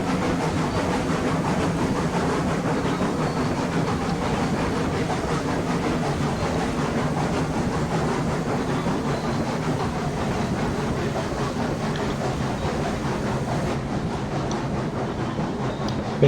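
Train rolling along in the video game Railroads Online, a steady rumbling roar with faint rhythmic clatter of wheels on track, continuous and fairly loud throughout.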